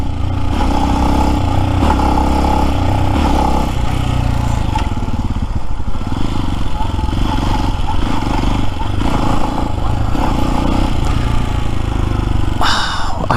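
A Lifan X-Pect motorcycle engine runs loudly and continuously up close, its pitch rising and falling as the throttle surges and eases.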